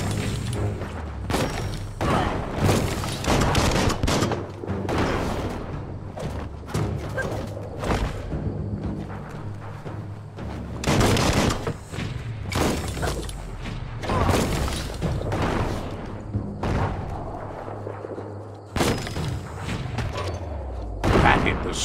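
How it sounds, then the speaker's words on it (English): Repeated explosive thumps and booms from a bomb lobber weapon in the action game Biomutant, bursting at irregular intervals over a dense bed of game effects and music, loud and close throughout. "That's a bomb lobber."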